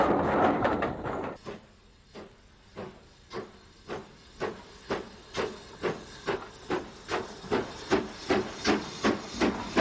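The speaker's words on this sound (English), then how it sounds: "A Schools Class 440 hurries a short down train through the station." A Southern Railway Schools Class steam locomotive hauling a short train through Paddock Wood station, its exhaust beats quickening into a loud, rhythmic chuffing that grows steadily stronger as it passes, following an opening burst of hissing steam.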